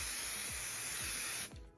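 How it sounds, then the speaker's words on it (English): Spray adhesive hisses steadily from a can onto quilting fabric for about a second and a half, close and continuous, then cuts off, with faint handling taps underneath. "I'm going to lift up my lovely green fabric and I'm going to give it a spray"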